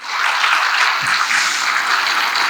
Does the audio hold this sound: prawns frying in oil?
no